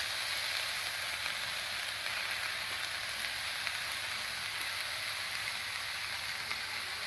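Spice paste and mankochu (giant taro) stalks sauté in a pan with a splash of water, giving a steady, close, dense sizzle that holds evenly throughout with no voices.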